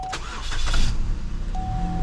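A car engine is cranked by the starter for about a second, then catches and settles into a steady, rough idle close by.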